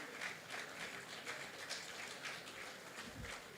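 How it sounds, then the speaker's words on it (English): An audience claps steadily for Reverend Francis Tete at a business summit, a dense wash of many hands sustained throughout, faint and distant. "Reverend Francis Tete, please clap for him"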